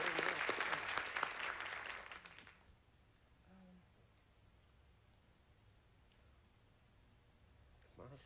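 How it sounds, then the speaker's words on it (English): Studio audience applause on a game show rises loudly at the start and fades out after a couple of seconds, leaving quiet room noise, with faint speech afterward. "Somebody applauded it, didn't they?"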